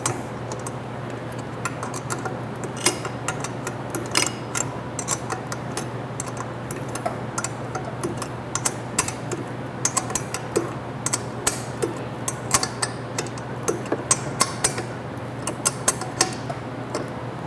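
A ratchet wrench tightens bolts while a mud motor turbo is being installed, giving steady rapid clicking in close, uneven bursts over a low constant hum.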